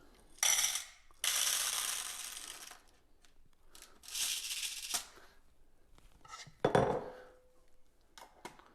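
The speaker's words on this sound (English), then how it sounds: "Put them back into the can." Airgun pellets poured back into a metal can, two long bright rattling streams of small metal pellets followed by scattered clinks and a sharper clatter near the end, close and clear with no talking.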